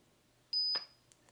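A laser level tool gives a single short, high electronic beep, followed by a click and a couple of faint ticks in a quiet room.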